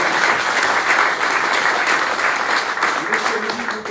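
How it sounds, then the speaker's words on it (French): An audience at a Master of Port competition selection event applauds with dense, loud, steady clapping throughout. "On peut applaudir"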